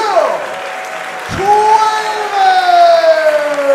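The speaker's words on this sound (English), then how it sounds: "lot of the crowd on their feet here for this one. A standing ovation." Wrestling crowd at an APW show giving a standing ovation after Will Cuevas retains the Internet Championship: steady, sustained applause and cheering from a packed audience, with a commentator's voice running over it.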